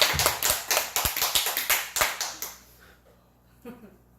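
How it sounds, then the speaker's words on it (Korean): A small audience claps at a church talk, a short burst of loud, sharp, irregular claps lasting about two and a half seconds before fading to quiet with a faint voice. "박수 한번 쳐주세요"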